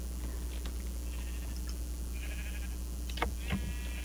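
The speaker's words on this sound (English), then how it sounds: "Stupid sheep." Sheep bleat in the Minecraft video game, a couple of short wavering calls near the end over a steady low hum of game background.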